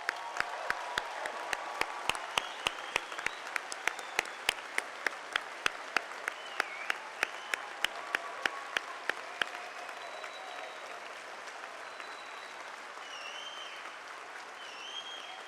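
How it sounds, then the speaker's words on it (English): Audience applause at a university Faculty of Arts & Science spring convocation, starting with a few distinct claps and building into sustained clapping from a large hall crowd that gradually thins toward the end. "Now you can applaud."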